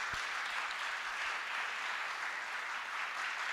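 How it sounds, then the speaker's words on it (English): An indoor audience at a tech talk event claps in a dense, steady round of applause that stays evenly loud throughout, with no voices on top. "So let's give them a big round of applause."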